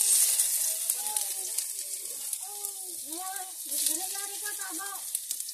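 Ginger frying in hot cooking oil, a steady close sizzle and hiss with someone talking over it.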